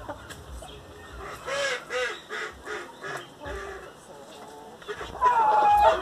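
Chickens call and squawk in a busy coop, with a sharper cry rising near the end amid background noise.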